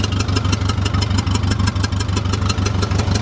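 A loud, close engine idles with a rapid, rhythmic puffing and ticking from a hole in the exhaust manifold, steady and unbroken throughout.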